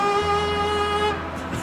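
A voice imitates a kazoo, a buzzy mouth trumpet holding a steady nasal pitch for over a second before fading, close and fairly loud, with no other talk.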